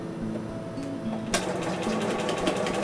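Sewing machine running a zigzag stitch for appliqué shapes, a close, steady mechanical hum with rapid ticking that picks up and runs faster partway through.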